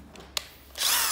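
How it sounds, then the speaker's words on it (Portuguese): A power drill with a thicker bit starts boring a hole while making a homemade Robocop-style horn, preceded by a couple of small handling clicks, then a loud close whine that continues to the end. "Mesmo esquema, passar a broca mais grossa."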